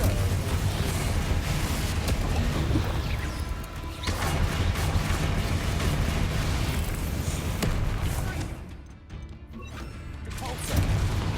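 Repeated Confringo fire spells blast in Hogwarts Legacy during combat, a dense, continuous run of booming, crashing impacts with heavy low rumble, briefly dipping before swelling again.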